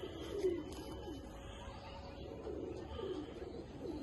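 Giribaz pigeons of the Palla line cooing in a loft, soft repeated low coos rising and falling over a quiet steady hum, a few faint chirps above.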